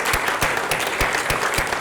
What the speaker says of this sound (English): So I think a big round of applause to youth.